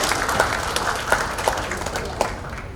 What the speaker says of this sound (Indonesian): Boleh kita kasih tepuk tangannya untuk Bapak.